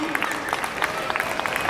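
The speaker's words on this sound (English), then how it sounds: "A big round of applause, please." Audience applause at a Janmashtami costume contest in Houston, brief dense clapping from a crowd with light background chatter.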